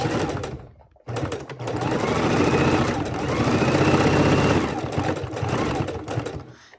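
A sewing machine stitches raw-edge appliqué in a steady, continuous mechanical hum with a rhythmic needle pulse, pausing briefly near the start before running on at close range.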